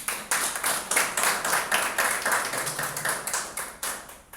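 Church congregation clapping during a family worship service, a loose, rhythmic run of individual claps and taps close by, fairly loud and unaccompanied by talk.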